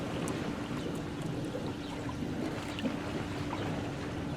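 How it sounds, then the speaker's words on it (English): Bubbling and gurgling water from an opened solar heater on a backyard pool system, a steady continuous wash of bubbles at moderate level with no pauses. "My solar heater has opened, and that's what the bubbles you're hearing are."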